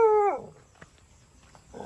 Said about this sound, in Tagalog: Aso lang na andito.